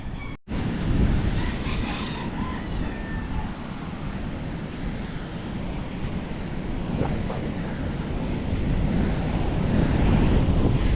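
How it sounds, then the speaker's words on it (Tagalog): Steady roar of ocean surf with continuous wind buffeting the microphone, loud and close, no voices. "Malakas pa rin ang alon. Pero hindi na ganun kalakas."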